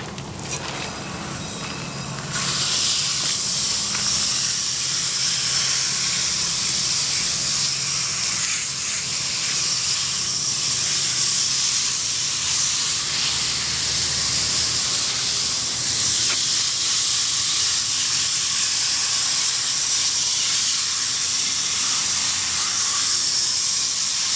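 A garden hose sprays water to rinse the fins of an AC condenser, a loud, steady hiss that starts abruptly after a short quieter stretch and holds without a break.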